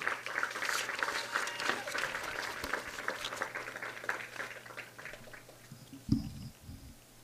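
Audience applause at a Casady fastpitch softball senior night, a steady mass of clapping from a crowd that gradually fades out, with a louder thump near the end.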